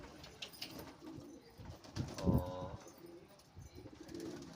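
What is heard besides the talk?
pigeons cooing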